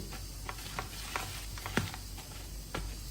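Red chili powder, turmeric and salt being stirred into a mixed achaar of lemon and other pickled vegetables, giving soft scraping and stirring sounds with a few sharper clinks and taps over quiet background.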